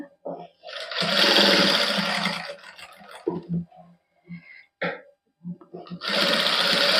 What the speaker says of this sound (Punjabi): ਹੁਣ ਇਸੇ ਤਰ੍ਹਾਂ ਉੱਪਰ ਨੂੰ ਸਲਾਈ ਲਾ ਦਾਂਗੇ